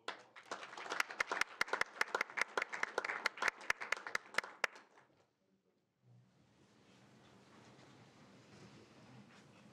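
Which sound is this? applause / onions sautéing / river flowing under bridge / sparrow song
applause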